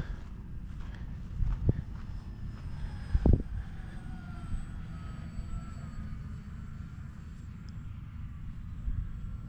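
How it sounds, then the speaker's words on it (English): Radio-controlled model airplane passing overhead in gusty wind, a thin steady engine whine drifting in the distance over constant low wind rumble, with a couple of brief knocks near the start. "Check that plane out"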